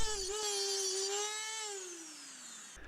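Power tool grinding off a motorcycle chain pin during a chain and sprocket change, a steady high whine that holds its pitch and then slowly drops as the grinder winds down, ending with a short click.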